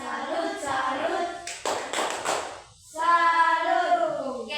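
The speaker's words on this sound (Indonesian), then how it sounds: "Tepuk salut. Salut, salut. Salut, salut." A primary school class claps together in a rhythmic classroom routine, crisp hand claps in short sets alongside children chanting in unison.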